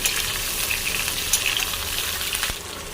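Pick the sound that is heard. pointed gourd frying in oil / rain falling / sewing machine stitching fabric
pointed gourd frying in oil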